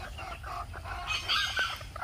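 A small rooster and a hen cluck softly in a backyard coop, with short, faint clucks and chirpy calls scattered over quiet background noise and no talking.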